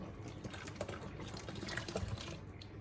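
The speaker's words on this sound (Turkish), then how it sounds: "ardından bir şişe maden suyu" Mineral water pours from a bottle into börek batter, a faint continuous bubbling trickle with light fizzing throughout, close and quiet, no speech.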